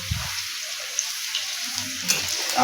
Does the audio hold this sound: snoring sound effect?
no